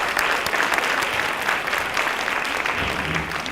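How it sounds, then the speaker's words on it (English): Conference audience at the LA NET Conf applauding: dense, continuous clapping from a full room, steady and moderately loud for several seconds, with a faint whoop or voice briefly underneath. "you want to stand up and just let everybody applaud you"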